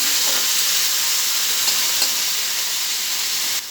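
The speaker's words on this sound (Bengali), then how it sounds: "মশলাটা ভালো করে কষে নেবেন, দেখুন ডিম আলু তরকারি করবেন।" Ground spice masala of pepper, cumin and other spices sizzles and fries in hot oil for an egg and potato curry, a steady loud hiss with faint stirring scrapes, cutting off abruptly near the end.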